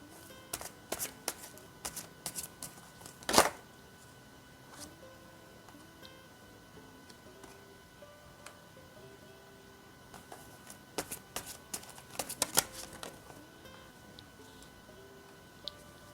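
Tarot cards are shuffled and handled softly at close range, with short riffling bursts and one sharper snap amid quiet tapping and sliding sounds.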